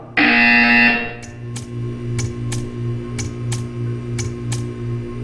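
Loud electronic buzzer from the Portal 2 test chamber sounds for about a second, followed by a series of sharp, evenly spaced ticks over a low mechanical hum.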